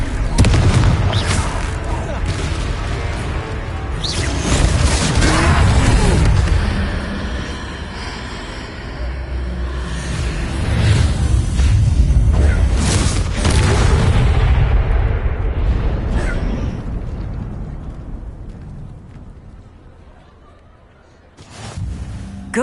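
A Confringo blasting spell erupts in Hogwarts Legacy during a troll fight, a loud, sustained roar of booming explosions and rumbling impacts that swells and fades over many seconds.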